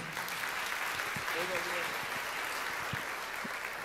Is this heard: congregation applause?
yes